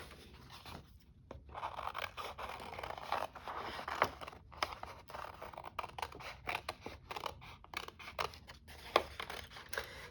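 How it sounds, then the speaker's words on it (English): Scissors cut paper ephemera from a junk journal kit, making a continuous run of soft snips and crisp rustling paper for about ten seconds, faint and close, with no talk. "Let's cut this out."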